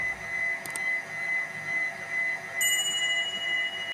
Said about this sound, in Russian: Я включаю миксер и начинаю взбивать с медленных оборотов